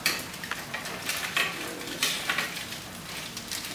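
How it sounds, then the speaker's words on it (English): Meatballs going into a pan of simmering sauce give a steady, moderately quiet sizzle and bubbling, with a few soft stirring scrapes and light clinks of utensils against the pan. No one talks. "Now we're going to add them to our sauce, which is cooking away"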